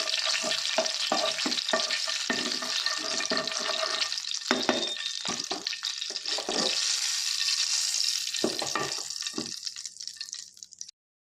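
Pieces of boiled egg fry in hot oil with turmeric, salt and chili powder, a dense, close sizzle with scraping stirs that fades near the end.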